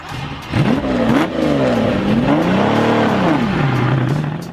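A Lamborghini Miura sports car engine revs loudly and close, its pitch climbing, rising and falling through several throttle swells, then settling to a lower steady drone, with no talking.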